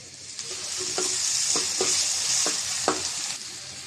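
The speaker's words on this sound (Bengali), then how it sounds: "পেঁয়াজটা হালকা ভাজা হয়েছে, একটু রসুন বাটা দিয়ে দিব" Chopped onion and garlic paste sizzle steadily in a hot pan for a fish bhuna with coriander leaves. A spoon stirs and scrapes the pan at a loose rhythm of about one stroke every half second.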